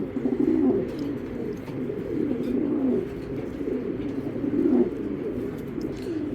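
Racing pigeons coo nearby in repeated low, throaty rolling calls, several soft bursts rising and falling over a steady background murmur.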